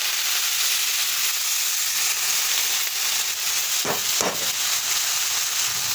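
Red amaranth greens hit hot mustard oil already tempered with mustard seeds and dried chilli, giving a loud continuous sizzle and hiss with a couple of sharp crackling bursts partway through.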